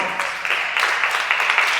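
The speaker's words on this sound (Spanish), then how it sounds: "Dale un fuerte aplauso al Señor." A church congregation breaks into loud, steady applause after a prayer, a dense unbroken wash of clapping that carries straight through.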